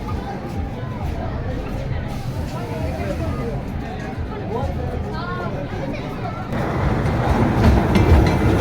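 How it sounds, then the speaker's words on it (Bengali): A children's amusement park train ride at Golden Star Park in Narsingdi rumbles past with a low rolling clatter that swells toward the end, under steady crowd chatter and a nearby voice. "এটা হচ্ছে ট্রেন রাইডের বিনোদন স্পট"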